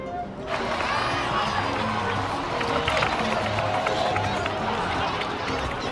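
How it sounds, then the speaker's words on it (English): A crowd cheering and clapping in the video game Genshin Impact, a continuous, busy wash of noise with scattered voices, fairly loud and sustained for several seconds. "Let's give a huge round of applause to our brave young warrior, Kachina!"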